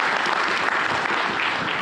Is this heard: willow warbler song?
no